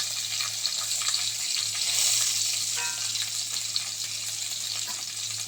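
Capsicum, tomato, slit green chilli and thin ginger strips sizzle in hot oil in a pan, a steady bright frying hiss with occasional stirring scrapes, alone without talk.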